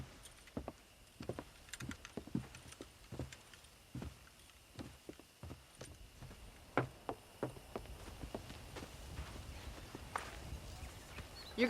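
Horse hooves clip-clop in an uneven walking rhythm in the video game Red Dead Redemption, fairly close and moderately loud, many separate knocks over a quiet background.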